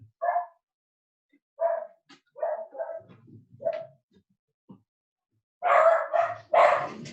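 Dogs bark in short sharp bursts indoors, scattered single barks followed by a louder run of close barking near the end, with silence between the bursts.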